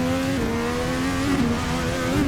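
A modern IndyCar, the Formula NA 2021, racing at Laguna Seca in the Assetto Corsa driving game, its engine holding a loud, steady high-pitched drone with slight rises and dips in pitch throughout.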